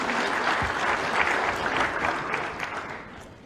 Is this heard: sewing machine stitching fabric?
no